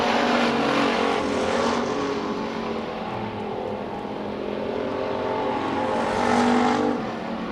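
Race cars roar around the track at Billings Motorsports Park on the final lap, a loud continuous engine drone with swells as cars pass close by, with no voices over it.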